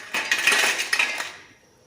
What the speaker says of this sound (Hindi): मैं आपको इसकी आवाज़ भी सुना देती हूँ, ये कितने क्रिस्पी बने हैं